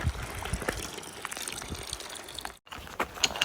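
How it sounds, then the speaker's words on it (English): Water gushes steadily into a bottle at a trail water source outdoors, a continuous splashing flow that breaks off abruptly near the end, then resumes faintly. "I am going to fill up my water right here."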